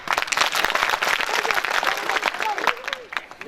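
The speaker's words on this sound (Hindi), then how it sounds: "एक बार तालियां बजाओ" An audience at a Hindi comic poetry recital claps steadily throughout, dense and close, with a voice briefly audible over the applause.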